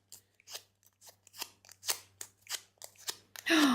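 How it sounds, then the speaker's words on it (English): A bone folder scrapes across paper in a craft session to add texture, producing about a dozen short, rhythmic rasping strokes up close, ending in a longer, louder scrape. "I'll get my bone folder and I'm going to just give them a little bit of texture."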